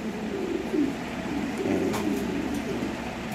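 Imported Lahori pigeons coo softly in a few low, rolling phrases against a faint hiss of background noise, with no talking.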